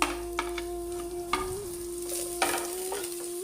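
Cabbage and capsicum frying in a pan, with a few scattered stirring scrapes over a steady low sizzle and a constant tonal hum in the background, close but fairly quiet.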